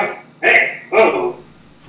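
A dog barks twice in quick succession near a game match, two sharp close barks separated by a short pause, with faint background noise.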